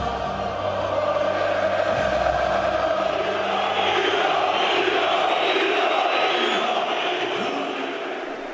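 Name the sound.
football crowd of rival fans inside the stadium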